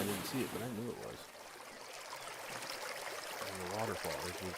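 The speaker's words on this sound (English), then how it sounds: "And the waterfall, it's beautiful." A waterfall in the video game Farming Simulator 25 gives a steady rushing wash of water throughout, with someone talking over it at the start and end.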